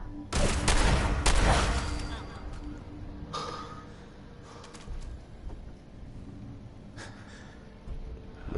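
Shotgun fire in a PS4 video game: loud blasts up front with a chaotic burst of gunfire, then scattered sharper shots over a noisy background, with a voice breathing and talking throughout.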